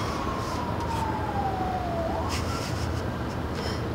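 A police car siren wails in the Watch Dogs 2 video game, one falling tone that then sweeps upward, fairly faint and distant over a steady background of city noise.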